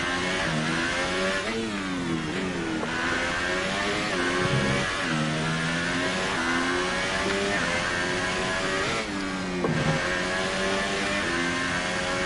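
Formula 1 car engine in F1 2018 on a hot lap of the Singapore street circuit, a loud, continuous high-revving scream with repeated sweeps up and down through gear changes, close and alone.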